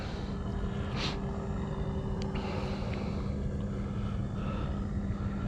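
An E-Flite Carbon Z T-28 RC airplane flies with a steady, droning motor hum held at a distance, broad and constant with no talk.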